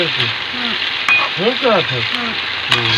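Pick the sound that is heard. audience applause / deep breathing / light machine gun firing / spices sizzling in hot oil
spices sizzling in hot oil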